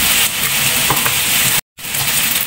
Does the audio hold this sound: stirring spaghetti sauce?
yes